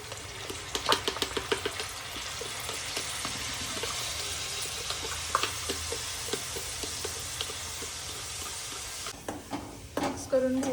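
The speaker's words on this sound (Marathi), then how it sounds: "आता तेलामध्ये कांदा टाकला आणि तो परतून घ्यायचा आपल्याला चांगला." Chopped onion and ground masala fry in hot oil for a chicken rassa, with a steady sizzle under repeated clicks and scrapes of stirring, and a voice speaking at times.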